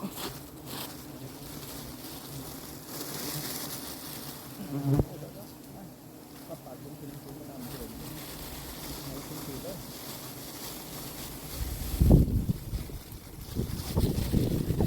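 A swarm of giant honey bees buzzes during a honey hunt, a steady droning hum with gusts of wind buffeting the microphone and a loud rustling burst near the end.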